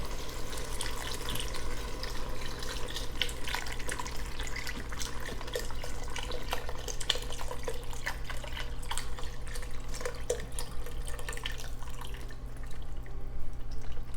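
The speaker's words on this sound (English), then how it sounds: "And then some beef broth." Beef broth poured from a 32-ounce container into a pot of French onion soup over high heat, a steady close liquid splashing and trickling that runs continuously without pause.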